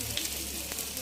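An egg frying in oil, a faint, steady close sizzle with a few small crackles, low in level and short.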